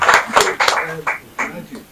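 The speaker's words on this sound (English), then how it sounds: "So clap for him again." An audience claps briefly for a speaker at a Nigerian presidential event, a few scattered claps in short bursts mixed with talk.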